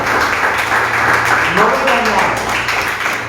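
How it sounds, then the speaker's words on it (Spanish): A church congregation applauds loudly for the Lord during a Spanish-language sermon, a dense steady wash of clapping with voices and cheers mixed in throughout. "Dale un aplauso bien fuerte al Señor."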